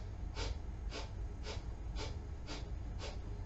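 Forceful exhaling breaths during a yoga plank, six sharp, evenly spaced bursts of air roughly half a second apart, close and fairly quiet, with no talking.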